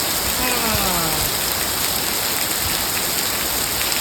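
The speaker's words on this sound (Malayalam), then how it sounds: "കോരിച്ചെരിയുന്ന മഴ" Heavy rain pours down in a steady, dense hiss, loud and unbroken from start to finish, driven by a cold wind that blows the spray in.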